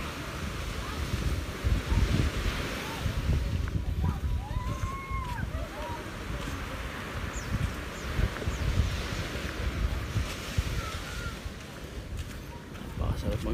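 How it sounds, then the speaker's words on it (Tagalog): Sea waves wash onto the shore at a beach resort in Calayo, Nasugbu, Batangas, making a continuous rushing surf noise mixed with gusty wind buffeting the microphone, with people talking now and then. "Ito yan, sa tabing dagat po kami."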